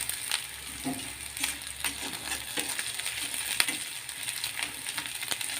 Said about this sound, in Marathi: आणि खमंग अशी हिरवी मिरची तेलामध्ये होऊ द्यायची आहे म्हणजे त्याचा तिखटपणा कमी होईल